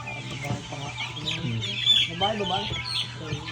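Vaccinated hens and other chickens on a farm cluck and chatter steadily, with a rooster-like call mixed in, close and moderately loud throughout.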